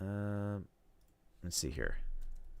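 A short flurry of clicky computer keyboard keystrokes follows a brief tone, with someone speaking softly around the typing.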